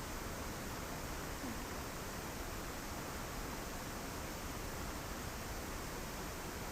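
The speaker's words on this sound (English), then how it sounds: "Little waterfall." A small natural waterfall pours in a steady, dense broadband rush, constant and fairly close, with no other sounds rising above it.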